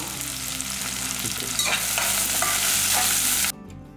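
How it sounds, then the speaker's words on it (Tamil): Fennel seeds and small shallots sizzle in hot oil for Chettinad mutton chukka, a dense steady frying hiss with occasional stirring scrapes, close and fairly loud, fading slightly at the very end. "சோம்பு வந்து ஒரு பிஞ்ச் அளவுக்கு போட்டுக்கோங்க நல்லா பொரியட்டும்"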